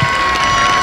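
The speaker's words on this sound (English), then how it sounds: "so a round of applause for him." Brief burst of crowd applause and cheering for a champion at a high school homecoming event, a loud dense wash of sound with no clear gaps.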